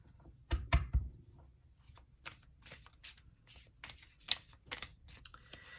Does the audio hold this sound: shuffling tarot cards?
yes